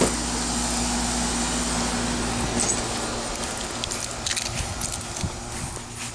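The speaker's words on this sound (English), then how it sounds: "That's from the air conditioner." An air conditioner runs with a constant, broad whooshing hum and a low droning undertone. A few faint clicks and rustles occur over the steady noise.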